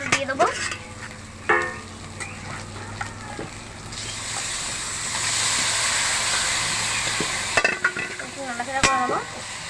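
Goat meat drops into hand-ground spice paste frying with turmeric in a pot, bringing a swelling sizzle in the middle, framed by sharp clatters and scrapes of stirring and handling.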